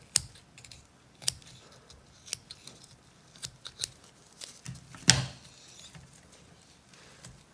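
Scissors snip through the pulmonary artery of a heart during a dissection, giving quiet, sparse clicks and small cuts spread irregularly across several seconds, with one sharper snip standing out near the end.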